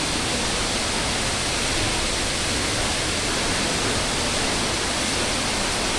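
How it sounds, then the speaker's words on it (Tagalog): Pagsanjan Falls in Laguna pours in a loud, steady roar of rushing water, a dense unbroken wash of noise that holds constant throughout with no voices. "So pupuntahan natin yung likod ng waterfalls."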